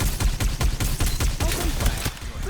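Rapid machine gun fire in the video game Farlight 84, a steady stream of quick, evenly spaced bursts with heavy low thumps, loud and continuous for the whole stretch.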